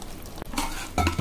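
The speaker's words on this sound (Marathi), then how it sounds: "आता हे सगळं मी मिक्स करून घेते." Spice masala being stirred and mixed for Maharashtrian alu vadi, a brief scraping and clattering of a spoon in a bowl with a sizzle-like rustle, close and fairly loud, no voices.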